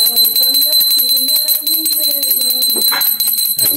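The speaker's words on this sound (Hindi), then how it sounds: "सारी घंटी बजा देंगे, हो गया।" Continuous metallic prayer bell ringing during worship, bright sustained tones, a loud, steady clanging that fills the whole stretch with a low hum underneath.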